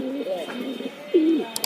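A pigeon gives a couple of soft, throaty coos close by, rolling low calls separated by a brief pause, with faint background noise.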